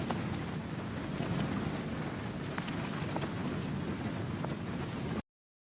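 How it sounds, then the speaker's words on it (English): Vinyl noise from the RC20 plugin forms a continuous soft hiss and crackle with scattered tiny pops, steady and fairly quiet, stopping abruptly near the end. "I then added a vinyl noise from RC20, and it sounds like this."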